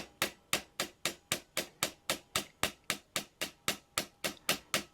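A hammer strikes metal in a fast, steady rhythm, about three sharp ringing blows per second, close and loud, while restoring a Dinky 161 Austin Somerset die-cast toy car.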